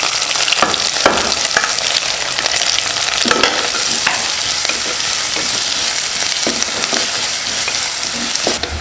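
Onions, curry leaves and garlic fry in hot oil with fenugreek for anchovy fish curry, a loud, steady crackling sizzle close by, with repeated scrapes and knocks of a stirring spoon.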